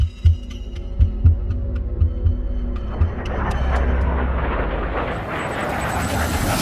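Pulsing thumps give way to a loud, rising military jet roar that sweeps overhead and builds into a broad rushing wash of engine noise.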